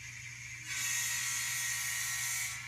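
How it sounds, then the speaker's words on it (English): A model train engine on a hobby layout runs with a steady mechanical whir and high-pitched buzz that starts abruptly and holds evenly, close and moderately loud, with no talk. "The engine sounds real good."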